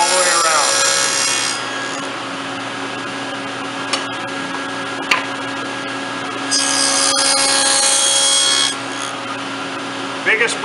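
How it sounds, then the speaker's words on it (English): A saw cuts through wood as the workpiece is pushed slowly along with a miter gauge, producing a continuous rasping whine that swells louder midway and lasts through the whole stretch. "Push it through. Go slow, you'll get a nicer cut."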